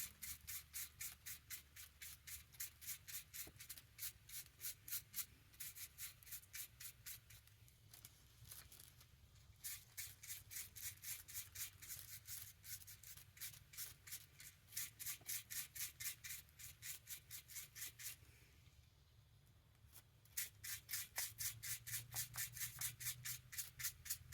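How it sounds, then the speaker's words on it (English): A small brush scrubs a vacuum cleaner filter in quick, steady rhythmic strokes, close and fairly quiet, with a brief pause partway through, no talking. "with the brush, I'm going to clean up this filter"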